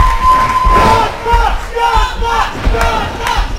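A wrestling crowd at an IWL show in Chino, California, cheers and shouts in loud, surging waves, with rhythmic chanting bursts and yells rising and falling throughout.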